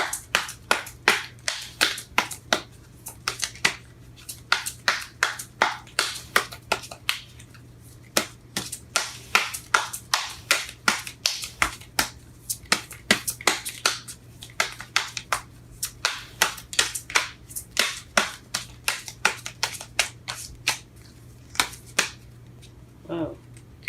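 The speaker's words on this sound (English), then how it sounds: "Shuffling these cards are hard." Tarot cards shuffled by hand in a rapid string of crisp riffling snaps and flutters, close and fairly loud, continuing in bursts throughout with a steady low hum underneath.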